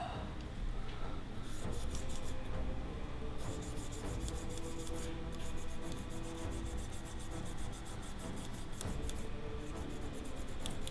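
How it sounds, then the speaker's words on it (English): Rough, steady rubbing strokes of sandpaper across a plastic part of a Battleship Kongo scale model's aircraft catapult, repeated scratchy passes close up with brief pauses between bursts. "Maybe sanding this side will work."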